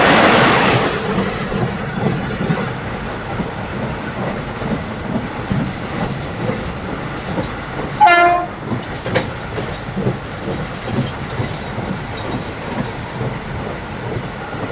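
Narasapur Express pulling into Palakollu railway station: steady rumble and clatter of the moving train throughout, with a brief horn blast near the middle, no talk.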